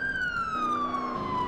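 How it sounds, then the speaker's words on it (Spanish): A police car siren wails in a roleplay video game, a loud steady electronic tone sliding slowly downward in pitch, heard alone without talk. "Vamos a encender la sirena."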